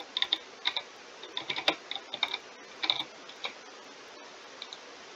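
Quiet keystrokes on a computer keyboard tapping out a Roblox chat message, clustered in short bursts with brief pauses, close by and fairly soft.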